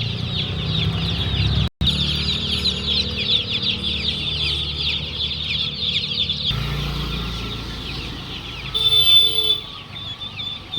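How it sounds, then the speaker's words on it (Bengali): Chicks and chickens crowd together at a poultry market in Gobardanga, Raghunathpur, giving a continuous chorus of high peeping and clucking that stays loud throughout, with a brief dropout and a shrill burst near the end. "মুরগি মুরগির বাচ্চা। আওয়াজ শুনুন"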